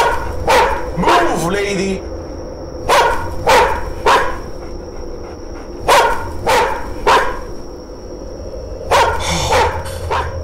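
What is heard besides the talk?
dog barking in the video game Chilla's Art The Karaoke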